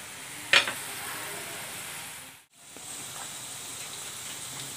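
French fries sizzle in hot oil with a steady hiss and crackle. There is a short sharp clatter near the start, and the sound drops out briefly in the middle before the frying resumes.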